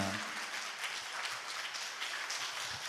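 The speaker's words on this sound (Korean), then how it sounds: "우리 박수로 장로님 환영하겠습니다." Congregation at a Korean church prayer service claps to welcome an elder, a soft, even wash of applause that continues steadily and fairly faintly throughout.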